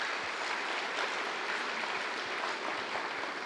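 An audience at a Diwali celebration claps loudly and steadily, a dense sustained burst of applause with no speech over it.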